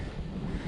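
Low, rumbling wind buffets the microphone on a cold day of pike fishing, a continuous blustery roar.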